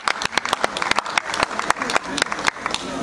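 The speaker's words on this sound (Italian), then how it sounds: "un altro applauso" Audience applause after a talk at the Dedalo Festival in Ramacca, Sicily: dense, steady clapping from a sizable crowd with sharp individual claps standing out, sustained for the whole stretch.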